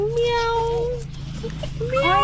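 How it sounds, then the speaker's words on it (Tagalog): A cat meows with drawn-out, wavering calls over a low steady hum, one long cry followed by a pause and then a second rising meow near the end, fairly close. "Meow."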